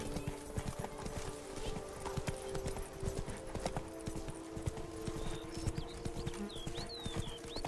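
Horse galloping in The Witcher 3 video game, rapid rhythmic hoofbeats pounding steadily and close, with faint tonal game sounds and a few higher chirps in the background.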